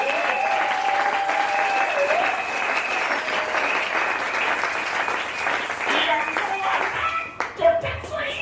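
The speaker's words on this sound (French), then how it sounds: "Acclamons pour le Seigneur." A church congregation claps together in sustained applause during a French-language consecration service, with a steady wash of hands and some voices or singing mixed in, tapering off near the end.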